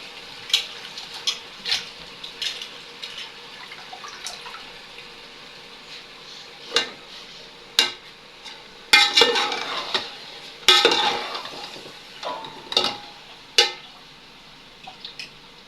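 Vegetables fry in spice masala in a pot under a faint steady sizzle, broken by scattered sharp clinks and scrapes of a spoon stirring against the metal.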